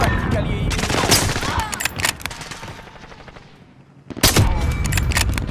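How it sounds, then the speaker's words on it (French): Rapid bursts of gunfire in the battle royale game Warzone, including fire from an SP-R 208 sniper rifle. Shots crack loudly and continuously, then thin out into a brief lull before a sharp burst of fire resumes. "On me tire dessus."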